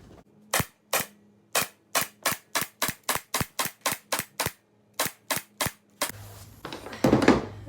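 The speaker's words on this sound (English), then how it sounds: "staple that down all the way" A staple gun fires repeatedly while fastening tack strip onto a no-sew channel tufted DIY headboard, giving about twenty sharp, close snaps in an uneven rhythm, followed by a rustle of handling at the end.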